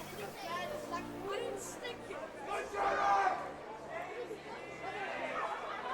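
Spectators at a water polo semi-final in Durban shouting support for players in the pool, a lively babble of voices and calls rising and falling, moderately distant with individual shouts poking through.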